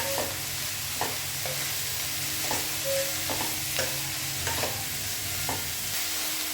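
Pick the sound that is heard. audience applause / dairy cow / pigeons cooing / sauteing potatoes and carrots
sauteing potatoes and carrots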